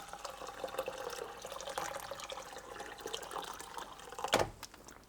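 Hot water splashes into a cooking pot over stuffed eggplant, peppers, tomatoes and onions, a steady close pouring wash that ends with a brief louder splash.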